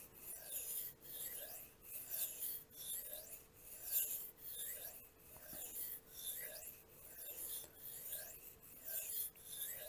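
A BPS Knives Savage bushcraft knife is sharpened on Suehiro whetstones with light pressure. The blade makes close, rhythmic rasping strokes, about ten back-and-forth scrapes in an even cadence.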